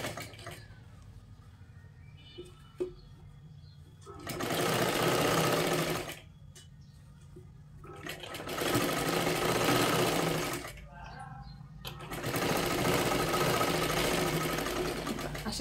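A sewing machine stitching a three-piece princess blouse makes three loud, steady runs of about two to four seconds each. Quieter pauses with faint handling noises separate the runs.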